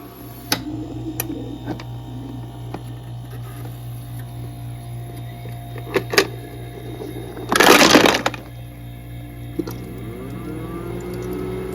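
A countertop portable electric ice maker, a Freezimer self-cleaning 33 lb-per-day unit, gives a steady low mains hum, a few light clicks, and one loud brief clattering burst of ice cubes dropping.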